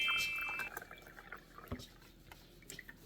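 Brita-filtered water poured into a container, a bright splashing trickle at the start that thins into scattered drips and small plinks, fairly close and alone.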